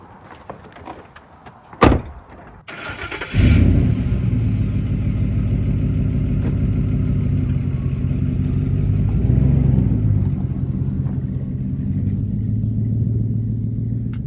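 Inside a farm pickup truck: a loud door slam near the start, then the engine starts and settles into a steady low rumbling idle that runs to the end, with no voices.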